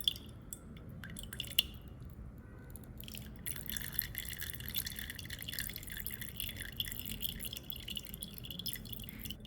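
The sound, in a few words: clove oil dripping as squeezed through thin cloth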